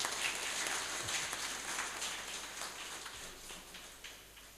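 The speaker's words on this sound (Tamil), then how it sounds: "நல்லா அவருக்கு ஒரு கைத்தட்டு கொடுங்க" An audience in a hall claps for a speaker, a steady, fairly soft patter of many hands that fades gradually, with no talking over it.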